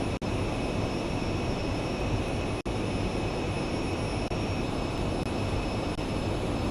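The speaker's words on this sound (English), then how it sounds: "Rotate. Positive rate. Gear up. Flaps up. Climb power set." Airliner climbing out after takeoff, a steady broadband jet engine roar with a constant whine, loud and continuous with a couple of brief dropouts.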